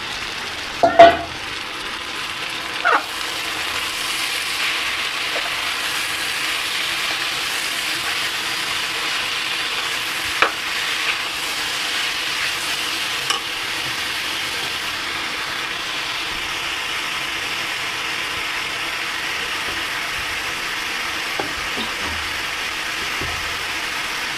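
A metal spatula stirs food frying with chili in a pan, giving a soft continuous sizzle broken by occasional sharp scrapes and clinks against the pan, with no talk over it.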